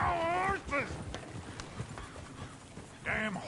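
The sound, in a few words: horses clip-clopping in the video game Red Dead Redemption 2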